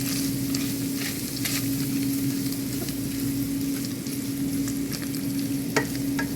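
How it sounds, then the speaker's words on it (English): Flour being stirred into browned sausage in a pan, with a continuous close sizzle under irregular scraping strokes of a utensil and a low steady hum beneath, no talk. "Add a few tablespoons of flour. Mix that up real good."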